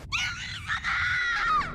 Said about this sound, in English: He hears her scream.